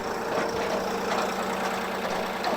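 The engine of a Blockbuster firewood processor idles steadily and fairly loud, a continuous mechanical hum and chug with no talking over it.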